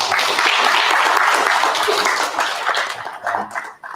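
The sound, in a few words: audience applause for a panelist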